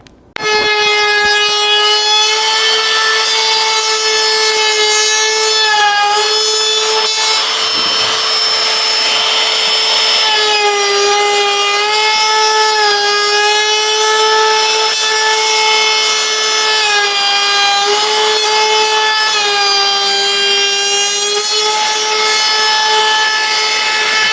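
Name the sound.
power tool rounding off edge of wood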